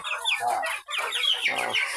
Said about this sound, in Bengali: তো সর্বমোট মুরগি আছে কতগুলো ভাই?